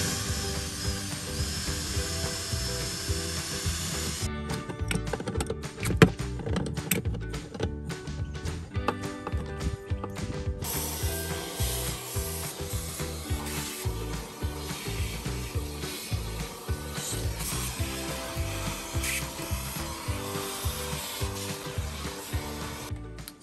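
A power tool cuts a hole through the bottom of a Malibu boat, with a continuous high buzzing grind that stutters in short bursts and then runs steadily again, fairly quiet throughout.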